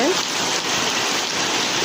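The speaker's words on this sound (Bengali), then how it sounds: "বাইরে এত পরিমাণ বৃষ্টি হচ্ছে," Heavy rain pours steadily outside, a dense, constant broadband hiss with no break across the whole stretch, fairly loud and close.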